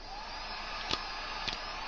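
A heat gun runs on its low setting while shrinking shrink wrap during laser diode wiring. It gives a steady, faint airy whir with a couple of brief clicks partway through.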